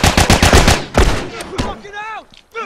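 Gunfire from The Last of Us multiplayer, a rapid burst of loud, close shots followed by a few spaced single shots, with a voice briefly heard afterward.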